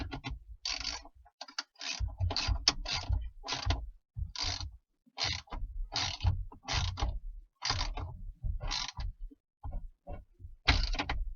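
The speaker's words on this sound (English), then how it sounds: "this is a 17mm nut, and a 3/8 ratchet does the job with the extension on it" A 3/8 ratchet with an extension turns a 17mm nut on a 1998 Subaru Legacy steering wheel, making close, crisp rapid clicks in short bursts with brief pauses between strokes.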